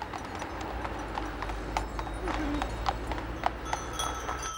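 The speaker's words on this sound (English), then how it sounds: "The local Franches Montagnes horses are perfectly adapted to the climate and terrain of this region." Franches Montagnes horses walk through the Swiss Jura countryside, their hooves clip-clopping in a steady, moderately close rhythm. A faint voice runs underneath.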